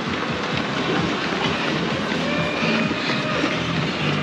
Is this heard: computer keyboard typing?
no